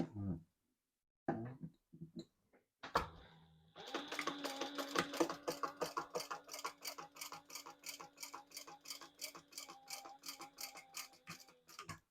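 A sewing machine top stitches a zip double wallet, its needle running in a rapid, steady mechanical rhythm for about eight seconds after a few handling clicks and pauses, close and moderately loud.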